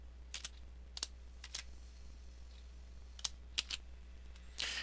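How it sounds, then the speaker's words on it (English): Sparse, separate clicks of a computer keyboard being typed on with one finger, in small irregular bursts with pauses between them, close and quiet in a still room with no talking. "Bear with me as I type with my one finger."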